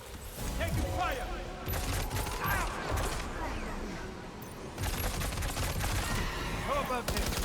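Gunfire in the Death Stranding 2 video game, with dense bursts of shots and rattling fusillades over a continuous roar, loud and sustained. A voice speaks over the fire.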